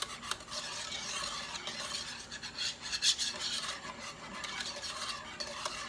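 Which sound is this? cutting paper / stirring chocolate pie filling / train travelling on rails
stirring chocolate pie filling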